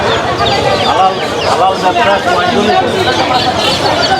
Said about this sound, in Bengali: এখানে মুরগির বাচ্চা আছে